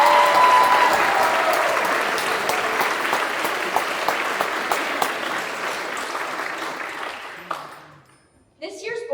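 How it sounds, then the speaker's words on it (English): An audience at a JROTC battalion award ceremony claps steadily for several seconds, dense applause in a hall that tapers off, followed by a voice beginning to speak. "I think the fact that they've made it this far deserves a round of applause."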